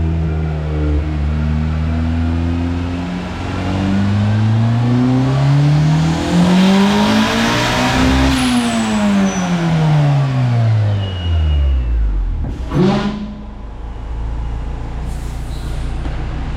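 A turbocharged Honda engine with VTEC on a dynamometer pull climbs in a long, loud rising howl, then falls away as the revs drop, ending in a sharp burst of released air and a lower idle.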